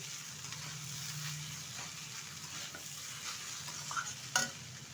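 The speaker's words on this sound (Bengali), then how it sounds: "আবার একটু নেড়ে চেড়ে নিচ্ছি।" Vegetable egg chowmein with chopped spring onion greens frying in a pan, stirred and tossed: a soft, steady sizzle under gentle scraping strokes, ending with a sharper metallic clatter.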